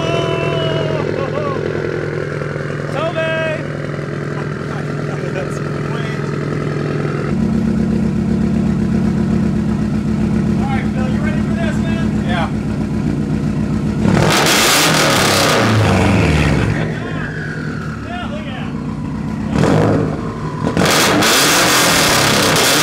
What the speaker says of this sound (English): on Phil's car, it was literally 10 times louder, mainly due to his unequal length aftermarket header.